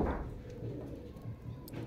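Breeder pigeons, including a blue Sialkoti, give a brief, soft low coo close by over a steady background hum, with no talking.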